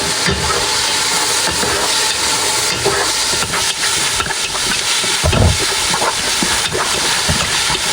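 A steady, dense sizzle as chicken sotanghon is stirred in a hot pan, an even frying hiss with occasional scraping and clatter, close and continuous with no talk.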